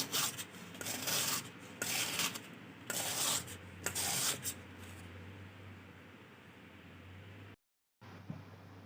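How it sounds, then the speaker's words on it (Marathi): Peeled raw green mango being grated by hand, a soft rasping scrape repeated in quick strokes for several seconds before it fades out, close and fairly quiet. "आता मस्त आपण याला किसून घेणार आहोत ना या प्रकारे आपण सर्व करी किसून घेऊया"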